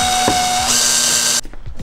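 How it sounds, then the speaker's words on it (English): Power drill running steadily while boring through a Mustang APR front lip for screws, a close, loud whine for about 1.4 seconds that stops abruptly, followed by faint handling clatter. "we're just gonna drill this shit and put the screws in"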